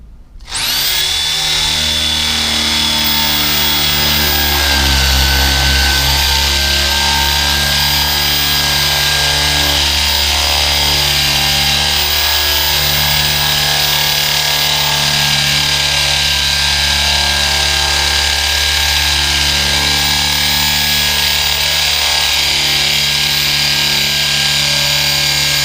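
A Hitachi hammer drill bores a hole with a loud, steady, high-pitched whine and hammering buzz that runs continuously and up close for the whole stretch, with no talk.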